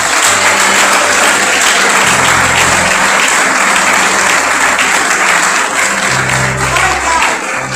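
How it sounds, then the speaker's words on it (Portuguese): Loud, sustained applause from a large church congregation fills the whole stretch, a dense wash of clapping with a low hum underneath. "Aplauda o Senhor."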